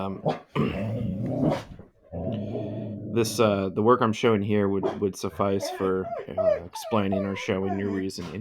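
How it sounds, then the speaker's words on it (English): A dog growls, whimpers and yips in short bursts near a person who keeps talking steadily over it indoors. "Apologize for my dog barking."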